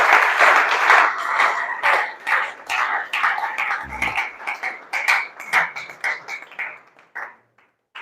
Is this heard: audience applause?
yes